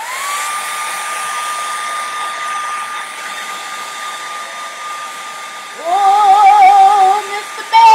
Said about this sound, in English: I'm going to take the hair dryer to the bear.